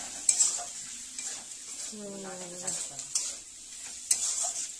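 Eggplant and potato frying in a pan while being stirred, with close scraping and clinking of a utensil over a soft sizzle, brief muffled voice sounds in the background.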